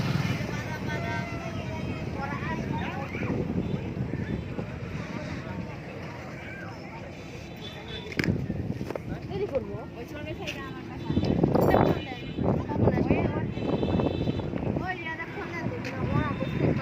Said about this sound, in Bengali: যে একটা নৌকা চলে আসলো এখন